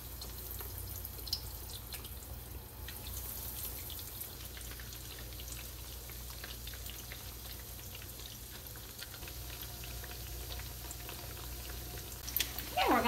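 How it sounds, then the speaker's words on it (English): Eggplant pieces frying in hot oil, a continuous soft crackling and bubbling sizzle, steady and moderately quiet, with a brief brighter clatter near the end. "we're gonna begin our frying"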